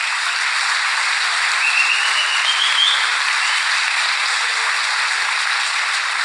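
An audience at an economics seminar in Argentina claps steadily and evenly, a continuous hiss of applause from a large room, moderately loud with no speech over it.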